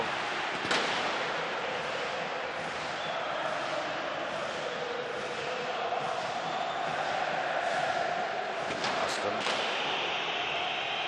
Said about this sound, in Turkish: Yani orada bir anda o yanıcı maddeler oyun alanına yağmaya başladı.